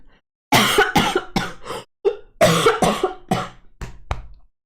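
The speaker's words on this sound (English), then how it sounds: "You're making me cough." A run of harsh, forceful coughs in quick clusters, close and loud, with brief pauses between bursts.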